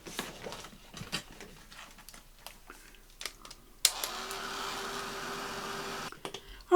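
A craft heat dryer blows air in a steady whirring hiss that starts abruptly after some shuffling and tapping of craft items, running for about two seconds before cutting off.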